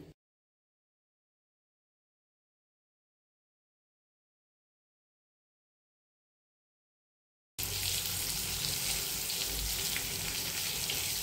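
Near silence gives way to a steady sizzle of stuffed chillies frying in a pan over low heat, loud and continuous for the last few seconds.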